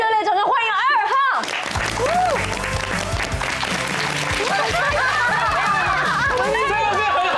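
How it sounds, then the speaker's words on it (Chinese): A studio audience on a TV talk show applauds loudly to welcome a guest onto the stage. The steady clapping starts after a host finishes speaking, then continues alongside laughter and overlapping chatter. "让我们热烈掌声欢迎二号"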